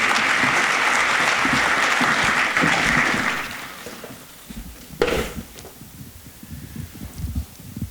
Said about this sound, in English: please join me in welcoming Mr. Jerry Bell